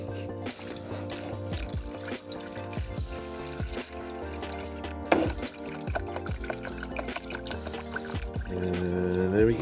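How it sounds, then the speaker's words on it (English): Demineralized water pours steadily into a container, a continuous close liquid splash that runs the whole time beneath prominent tonal background music. "Add some demineralized water."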